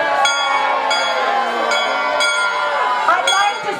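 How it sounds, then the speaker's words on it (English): A bell rings at a pub at the Maryland Renaissance Festival, struck repeatedly at a steady pace over a busy crowd with people talking. "that bell means but one thing in Rebel Grove"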